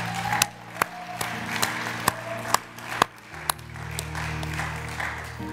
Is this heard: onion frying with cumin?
no